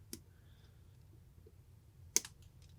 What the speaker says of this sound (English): I can snip this off with my new snippers here.